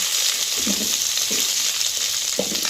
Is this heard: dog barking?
no